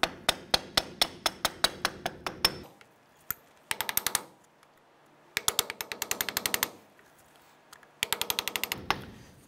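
A hammer taps rapidly on the front upper ball joint of a 1993-1997 Ford Ranger, sharp metallic strikes in quick bursts of about a dozen blows separated by brief silent pauses.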